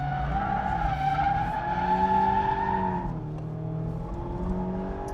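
Tyres on a Mazda MX-5 GT RS squeal in a long, sustained skid on a race track during a Scandinavian flick, loud and close, with the engine note droning underneath and pitch shifting as the slide ends.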